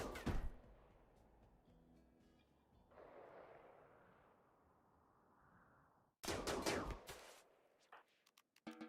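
Gunfire in RimWorld as colonists shoot down raiders: a sharp burst of shots at the start, a quieter rumbling stretch, then another loud volley with scattered trailing pops.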